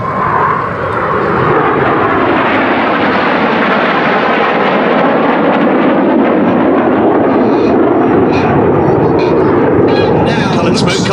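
Red Arrows jets fly in tight display formation at an air show, making a loud, sustained roar of engines that fills the whole stretch with steady broadband noise and rises slightly toward the end.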